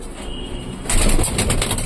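Pigeons, including Rampuri birds and young chicks, in a breeding loft in Hyderabad give soft coos, then a sudden burst of flapping wings partway through, close and lively, with no talk.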